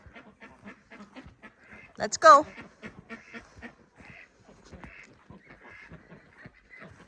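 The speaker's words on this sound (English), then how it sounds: "I love having ducks because they're so friggin' smart" A few pet ducks quack loudly in a brief burst at bedtime amid soft background noise, while a person speaks briefly.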